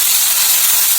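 Ginger, garlic and onion paste hits hot oil in a wok for chole, giving a loud, steady, unbroken sizzle up close.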